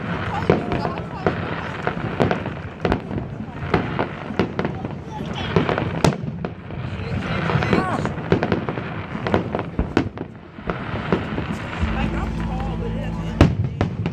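Fourth of July fireworks over Tempe Town Lake in Arizona boom and crackle in a rapid series of outdoor bursts, with rumbling echoes and people talking nearby between the blasts.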